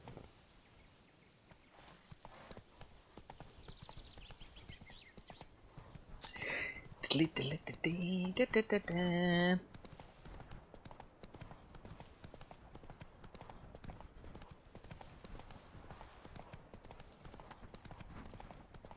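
Horse hooves clip-clop across the ground in The Witcher 3: Blood and Wine, a short run of rhythmic steps lasting a few seconds in the middle, surrounded by quieter game ambience.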